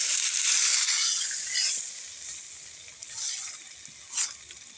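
Tender amaranth leaves stirred in hot oil with two garlic cloves and nigella seeds: a loud hissing sizzle that fades and swells with each stir, plus a couple of brief scraping rustles, close and without talking.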